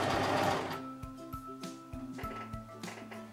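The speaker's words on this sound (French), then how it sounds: "Et là je continue à piquer." Sewing machine stitching the seams of a coat, its motor humming steadily with short pauses and restarts as the fabric is guided, close and fairly quiet with no talking.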